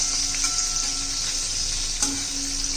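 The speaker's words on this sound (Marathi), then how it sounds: "त्याच्यामध्ये हिरवी मिरची आणि लसूण घालून घ्यायचं आहे. चांगला असं परतून घ्यायचं आहे." Green chilli and garlic sauté in hot oil for a spinach bhaji, giving a loud, continuous close sizzle with a faint tone running beneath it.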